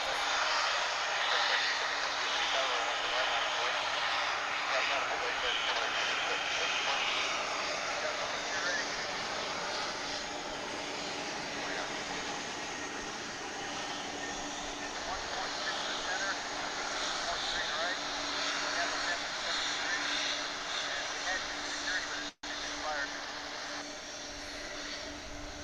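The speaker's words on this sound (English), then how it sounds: "We're going to check now on a United Express flight coming in from Denver." United Express CRJ-701ER regional jet arriving from Denver at Dallas Fort Worth International Airport, a broad steady engine roar and rumble held for about twenty-five seconds at moderate distance, with a person talking over it.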